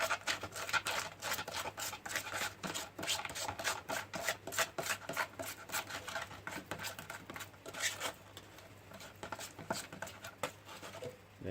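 Wall repair compound being mixed to a play-putty thickness for a seeping garage wall, a faint, busy stream of quick scraping and tapping strokes close by.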